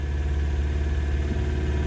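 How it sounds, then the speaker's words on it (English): An all-wheel-drive BMW E36 engine idles slightly high, a steady low rumble with a faint regular pulse, close and constant, heard alone without talking. "she might be idling a little high"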